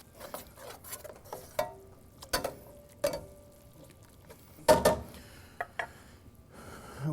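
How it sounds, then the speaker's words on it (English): A spoon stirs diced roasted ingredients through a mix, sounding as a series of separate scraping, clattering strokes, loudest near the middle, with quiet gaps between them and no talking. "We're going to give that a nice quick stir."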